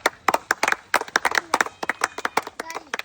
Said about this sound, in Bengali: দর্শক হাততালি, হাততালি হবে